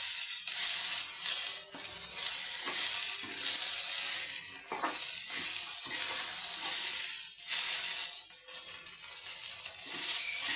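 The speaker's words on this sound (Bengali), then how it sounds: "আমি এবার লাল করে ভেজে নেবো" Gime shak leafy greens frying in hot oil over a high gas flame, a loud continuous close sizzle with occasional stirring scrapes, no voices.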